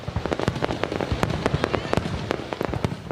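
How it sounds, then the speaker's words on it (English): Fireworks burst over Hanoi for the Lunar New Year (Tet) celebration: a dense, continuous stream of loud cracks and pops comes in rapid irregular succession, with no voices. "Hanoi has welcomed the new Lunar New Year with a colorful fireworks display that lit up the night"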